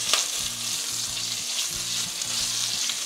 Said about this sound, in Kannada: ಲೋ ಫ್ಲೇಮಲ್ಲಿ ಇಟ್ಕೊಂಡು ಫ್ರೈ ಮಾಡ್ಕೊಳ್ಳಿ.